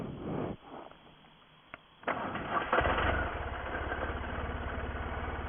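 A 2006 BMW R1200RT boxer-engine motorcycle cranks and fires after a short quiet pause, then settles into a steady, throbbing idle that stays close and fairly loud.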